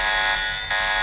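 An alarm in the video game Deus Ex, triggered by walking through security lasers, blares as a loud, steady electronic buzzing tone that dips briefly in the middle, then returns at full strength, with no talking.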